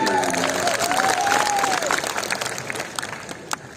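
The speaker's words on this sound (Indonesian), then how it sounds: "Tepuk tangan untuk Mas Arif." An audience at an evening religious gathering, a haul commemoration, applauds for Mas Arif, with broad clapping and some cheering, loud at first and gradually thinning out, a voice briefly heard at the start.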